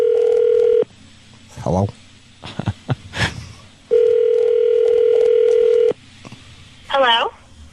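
A telephone call goes through on a radio prank show: steady dial tones and touch-tone dialing beeps, then ringback tones, loud and close, with brief talk between them and a woman answering at the end.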